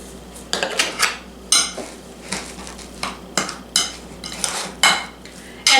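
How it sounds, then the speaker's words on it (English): Egg mixed in a bowl with repeated sharp clinks and scrapes of a utensil against the dish, an uneven close-up rhythm of strokes. "Let's mix this egg up."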